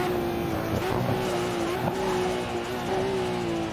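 A Group A Nissan GT-R race car engine in a racing video game whines at high pitch, its revs rising and dipping slightly as it drives, loud and continuous with tire noise beneath.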